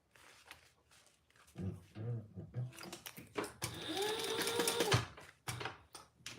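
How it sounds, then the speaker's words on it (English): A sewing machine bastes fabric for a bag lining in short mechanical bursts with rising whirs and rattles, close and moderately loud, between quiet pauses. "All right, let's sew this on. I'm just basting this side"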